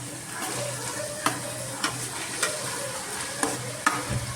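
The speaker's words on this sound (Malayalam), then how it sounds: "നല്ലപോലെ മിക്സ് ചെയ്ത് കൊടുക്കാം." A spoon stirs chicken fried rice in a hot pan over a constant sizzle, with a few sharp scraping knocks at regular intervals.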